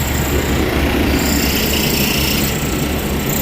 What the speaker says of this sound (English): the reason why it's shaking so much, you got a K-body compressor with no springs